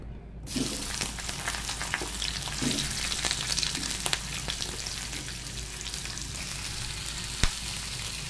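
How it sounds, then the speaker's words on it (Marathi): Steady, crackling sizzle of onions shallow frying in a little oil in a kadhai, with occasional sharper pops and faint clinks, no voices. "कांदा हळूहळू गुलाबीसर फ्राय झालेला आहे"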